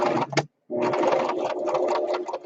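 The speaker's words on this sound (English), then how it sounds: "I'm sewing up the last petal for our flower." A sewing machine stitches a fabric flower petal for a 3D quilt, a brief whir, a short pause, then a longer steady run of fast mechanical stitching, close and loud.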